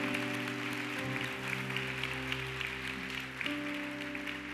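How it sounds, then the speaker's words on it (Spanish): A church congregation claps during a sermon. The applause sounds moderate and diffuse over sustained organ or keyboard chords, and the music stays prominent throughout. "Den aplauso al Señor."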